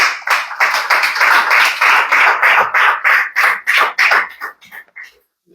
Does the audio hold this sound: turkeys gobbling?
no